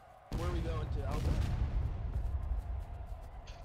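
Artillery fire explodes in a battlefield video game as a sudden loud booming blast that rolls into a sustained rumbling roar before fading.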